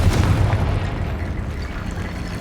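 Confringo blasting spell explodes in Hogwarts Legacy, a loud low boom at the start that rumbles and decays over the next two seconds, heard alone.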